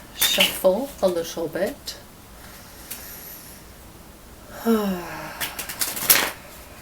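Quick riffling and shuffling of tarot cards in a few short bursts, close by, with a voice speaking briefly in between.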